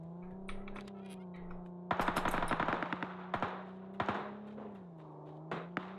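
Rapid bursts of automatic gunfire in the online shooter Ring of Elysium, sharp clustered shots over a steady engine-like hum, then scattered single shots trailing off.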